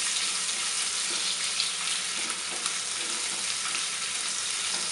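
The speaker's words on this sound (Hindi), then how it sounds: "इसमें अभी हम अनियन डालेंगे, उसको सौते होने देंगे थोड़ी देर के लिए।" Onions sauté in a pan with a continuous soft, even sizzle at moderate volume and a few faint clicks, with no talk.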